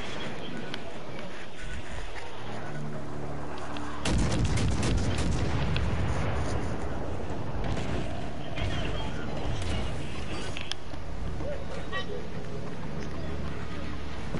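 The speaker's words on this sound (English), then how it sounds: "I just shot some torpedoes" Torpedo launch in the naval combat game World of Warships: a sudden loud, broad whoosh-and-boom burst about four seconds in, followed by sustained rumbling battle noise and water-vehicle sounds, with talk over it.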